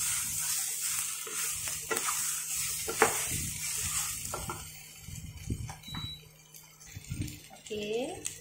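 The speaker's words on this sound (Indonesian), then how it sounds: "kita gaul sekejap ikan tu dengan bawang-bawang tadi" A utensil scrapes and clacks against a frying pan as turmeric-coated fish is stirred with onions, a soft sizzle underneath, with a voice talking in between.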